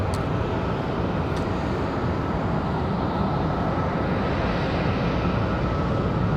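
An Airbus A220 airliner departs Raleigh-Durham airport, its engines a steady, loud broadband roar that holds without letup throughout, with no voices over it.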